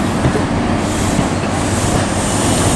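London North Eastern Railway train rolling into a platform at Aberdeen, a steady, loud broadband rumble of wheels and carriages with no break and no speech.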